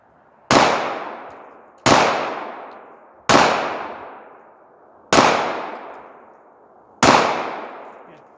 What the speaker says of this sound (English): The position that you see me shoot it in now is what I shot these in earlier as well